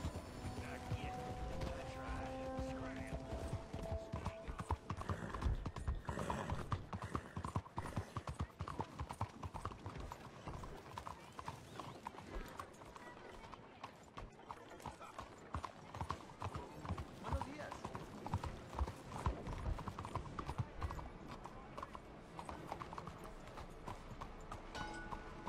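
Horse hooves clip-clop in Red Dead Redemption 2, a steady rhythmic trot on dirt running throughout, with game characters talking over it intermittently.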